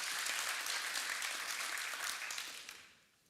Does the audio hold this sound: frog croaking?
no